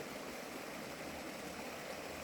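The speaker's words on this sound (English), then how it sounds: "a tiny little waterfall up there." A small waterfall in Kingaroy country pours in a steady, even rush of water, close and continuous with no voices.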